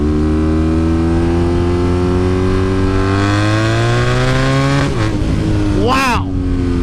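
A BMW R nineT motorcycle engine revs up loud and close, pitch climbing steadily through the mid to upper range in one long pull before shifting, with a voice exclaiming near the end.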